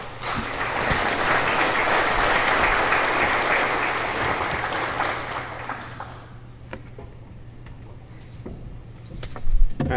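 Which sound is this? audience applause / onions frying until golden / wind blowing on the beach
audience applause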